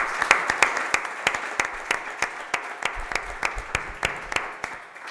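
An audience at an architecture lecture in Seville applauds, a burst of sharp handclaps with a few loud individual claps standing out, steady for several seconds before easing off.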